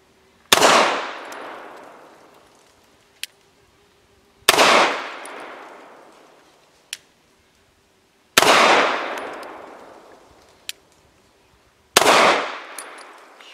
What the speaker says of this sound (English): Now for 5 shots from 7 yards using Nosler 124 grain match.